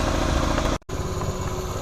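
A 1975 Honda CT90 motorcycle engine idles after carburetor adjustment, a steady close putter broken by a brief dropout, with no talking.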